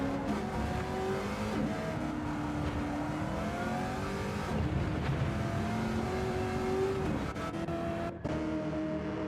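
A Chevrolet Camaro V8 Supercar engine screams around Road Atlanta in a racing game, revving up and down through gear changes at steady high volume, with faint tyre squeal and no voices over it.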